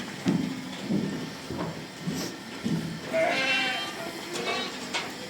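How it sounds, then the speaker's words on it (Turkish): A hand-reared lamb bleats repeatedly on a farm where sacrificial livestock are kept, its calls coming in short close bursts with a longer wavering bleat midway, amid outdoor noise and voices. "Bakın şu bizim el kuzumuz hiç arkamızdan ayrılmıyor."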